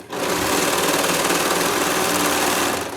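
A serger stitches toddler peplum clothes in a steady, loud, high-pitched mechanical whir that runs continuously at even speed for a few seconds before stopping, with no talking.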